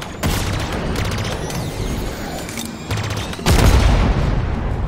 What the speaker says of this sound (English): I'm having explosions everywhere.